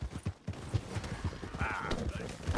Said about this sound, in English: That horse looks like a fine traveling companion.